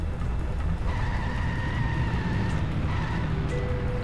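In The Simpsons Hit & Run video game, the Mr. Plow truck drives hard with a steady engine drone and tire squeals rising over it, a continuous loud game mix with no talking.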